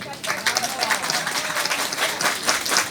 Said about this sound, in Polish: gorące brawa dla Ciebie również